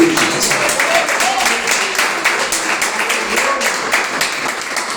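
Church congregation clapping in praise, fairly close and loud, with individual claps forming a rough rhythmic beat and some voices mixed in.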